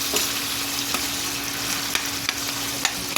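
Pinakbet vegetables are stirred in a frying pan over a steady sizzle, with a few sharp spatula scrapes and taps spaced through it, close and fairly quiet with no talking.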